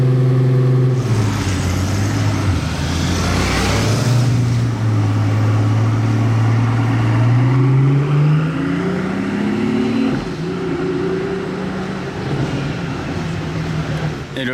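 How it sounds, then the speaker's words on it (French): A Pagani V12 hypercar with Romanian plates in summertime Monaco fires up, its engine spinning up from a low rumble into a rising, loud rev before settling at a steady idle, close by, with outdoor street noise around it. "le bruit du V12 au démarrage ne m'a pas déçu les amis"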